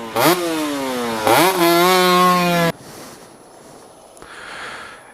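Two-stroke 125cc motorcycle engine, such as a KTM RC125 or Aprilia RS125, revving hard: two loud rising blips into a sustained high-pitched wail that cuts off abruptly, leaving quieter ambience.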